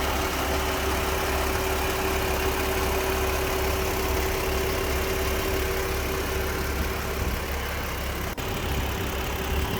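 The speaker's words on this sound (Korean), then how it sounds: "엔진 소리는 카메라가 가까울수록 당연히 크게 들릴 수가 있습니다." A used car's engine idles steadily, recorded close up inside the engine bay, a constant low hum with a faint tonal whine and no voices.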